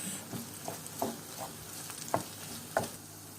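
Rice filling for stuffed vine leaves is stirred and toasted in a pan with tomato paste, soft scraping strokes landing every half second or so over a low, steady sizzle, nearby with no one talking.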